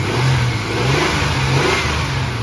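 A Chevy S10 pickup's 4.3-liter Vortec V6 revs under the hood, held at a steady loud drone with slight rises in pitch, close by and alone without any talking.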